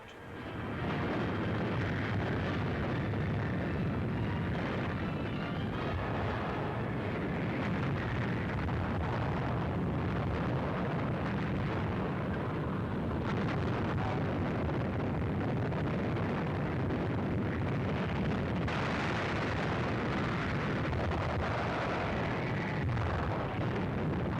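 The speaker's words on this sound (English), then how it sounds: "Allied warships move into range of enemy fire and turn their big guns against the fortress batteries of Cherbourg." Allied warships fire their big guns at the fortress batteries of Cherbourg in a Second World War assault: a loud, unbroken rumbling roar of heavy blasts that runs throughout with no voices.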